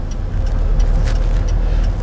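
A manual-transmission car accelerates in third gear during a driving lesson, a steady loud engine drone with low rumble and no talk over it.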